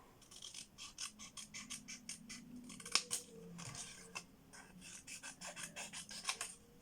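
Scissors snip through a small square of thin card for a scrapbooking mini album, a quick run of close, crisp cuts with short pauses, no voices.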